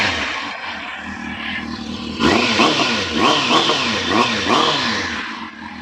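A warm 600cc motorcycle engine idles then revs repeatedly in sharp rising bursts, loud and close, each rev climbing and falling back.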